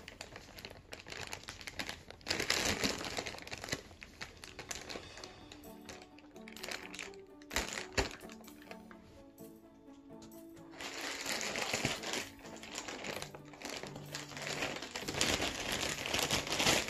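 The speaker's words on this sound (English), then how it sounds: "So I'm gonna open up with my trusty credit card knife and get this thing open real quick." A package being cut open with a credit card knife during an unboxing of a crane game prize shipment, heard as close, continuous crinkling, scraping and tapping with a quieter stretch in the middle, with no talking.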